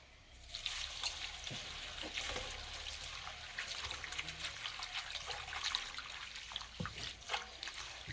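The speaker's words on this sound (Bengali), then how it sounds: "দুই থেকে তিনবার জল পাল্টে পরিষ্কার করে ধুয়ে নেব" Neem leaves are washed in a bowl of water, with close splashing, swishing and trickling as hands move the leaves through the water and it drips off, continuous with small bursts, with no voices.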